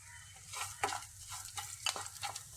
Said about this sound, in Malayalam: എന്നിട്ട് ഇതൊന്ന് ഇളക്കി കൊടുക്കാം.